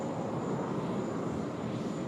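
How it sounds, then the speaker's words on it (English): Sustained broadband roar of a GE90 turbofan spooling up on an airliner at Sydney Airport, steady and loud throughout with a faint high whine above, heard from nearby with no talk. "Always looking forward to a GE90 engine start sound right here"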